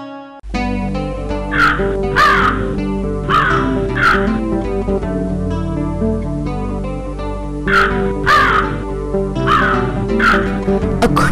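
Crows caw loudly in short repeated bursts of two or three calls, near and clear over a continuous melodic backdrop.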